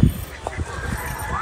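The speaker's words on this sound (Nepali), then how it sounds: "अब हामी गएको फर्केको यहाँनिर चाहिँ हाँसहरू रहेछ" Ducks at a farm beside a cabbage or cauliflower patch give a few short, nasal honking calls close by, mixed with people talking and brief rustling.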